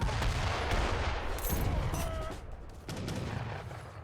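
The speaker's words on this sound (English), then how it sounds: "Five mortars are coming in." Mortars fire and shells land in the video game Age of Empires III: a busy spell of repeated booms and sharp battle impacts, moderately loud, with no talk over it.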